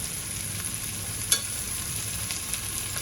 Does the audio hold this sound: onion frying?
yes